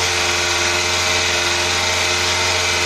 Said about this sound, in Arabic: كما تسمعوا فيه، مازالش فيه شويه حس تاع لي بوسوار